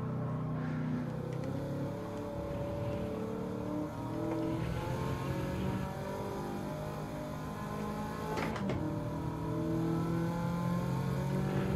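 A racing car engine in Gran Turismo 7 drones and revs continuously, its pitch climbing and shifting as the car accelerates, steady and fairly loud with no speech over it.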